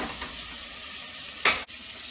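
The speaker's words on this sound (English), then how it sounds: "So I'm going to fry this up for a couple minutes until it starts to get crispy" Bacon frying in a pan for Creole green beans, a steady close sizzle that runs unbroken with a brief stir or clatter near the end.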